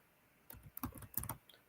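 Typing on a computer keyboard: a quick, faint cluster of close keystroke clicks lasting about a second after a brief quiet pause.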